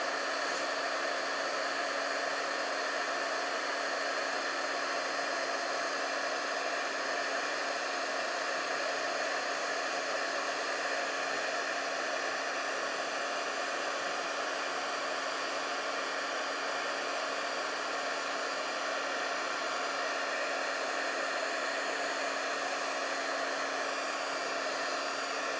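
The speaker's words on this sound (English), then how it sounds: "And so I'm going to use my Wagner heat tool for this one." A Wagner heat tool blowing hot air for heat embossing on metal foil cardstock, a continuous steady whooshing drone with a faint whine, close and even in loudness for the whole stretch, with no talking.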